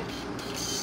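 An Epson LQ-590 dot matrix printer prints in a short, fairly quiet burst of steady buzzing, close by with nothing else sounding.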